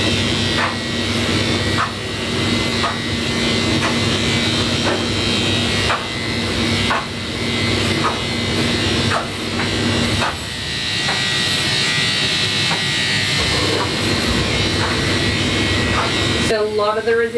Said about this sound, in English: It's tempting as it is sometimes to just like drive that clipper through.